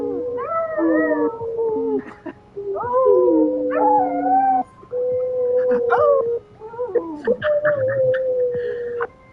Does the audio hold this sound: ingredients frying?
no